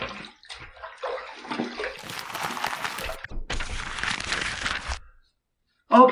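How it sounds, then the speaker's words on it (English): Running water rinses a stainless steel safety razor in bursts of splashing and gurgling under a tap, with a brief pause near the end before the flow resumes close and loud. "Okay, it took quite a bit of rinsing to get that off."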